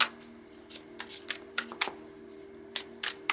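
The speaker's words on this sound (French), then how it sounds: "je vais tirer simplement 2 cartes pour chaque tirage" Tarot cards are shuffled and drawn, giving a string of crisp riffling snaps and slaps, about eight distinct bursts in an uneven rhythm, close and clear over a soft steady hum.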